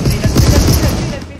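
Rapid gunfire from the Marauders video game crackles in a dense, continuous burst lasting the whole moment, loud and close, with a voice talking over it.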